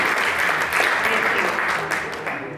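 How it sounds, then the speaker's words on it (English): An audience at an awards and volunteer appreciation ceremony applauds steadily, a dense even wash of clapping that holds for a few seconds and fades slightly at the end, with no talk over it. "So a big round of applause for Kokilabin for doing that seva at Jaina."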